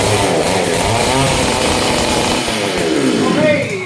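A gasoline auger machine drilling with a 300mm drill bit, its engine roaring loud and continuous up close, pitch wavering as it works.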